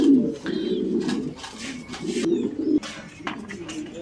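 A new adult Mondain pigeon at a pigeon farm coos in repeated low, throaty phrases, close by, with faint higher chirps from other birds around.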